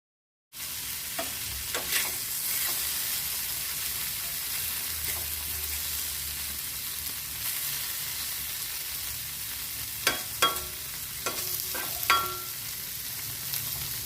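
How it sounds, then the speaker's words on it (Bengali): Paneer pieces fry in a little oil on a flat tawa, giving a steady, close sizzle for the whole stretch, with a few sharp scraping or turning clicks near the start and again toward the end. "রান্নাটা কম তেলে করার জন্য আমি তাওয়ার মধ্যে পনিরগুলো ফ্রাই করছি"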